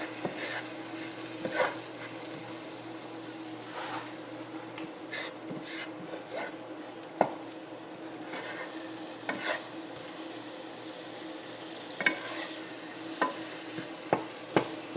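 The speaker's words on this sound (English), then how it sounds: "Get this all cooked down and stirred together." A flour roux made with quick-mix flour is stirred in a pan on the stove for scalloped potatoes, giving a soft, steady sizzle with quiet scraping strokes and occasional sharp clicks of the utensil against the pan.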